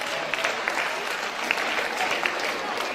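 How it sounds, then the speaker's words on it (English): An audience at a school dance event applauds loudly and steadily throughout, with dense, continuous clapping and a few sharper claps standing out. "Can you give him a big round of applause, please?"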